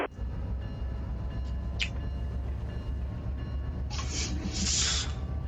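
A diesel locomotive throttling up to notch 3 while heading out on the Union Pacific Cajon subdivision toward the East Los Angeles yard, giving a steady, close engine rumble with a faint hiss and a couple of brief high chirps.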